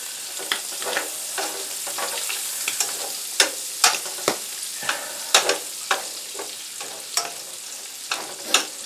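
Butter sizzles and crackles in hot sausage grease in a skillet while white sausage gravy is being made, giving a steady fry with frequent sharp pops and spits, close and fairly loud, with no talking.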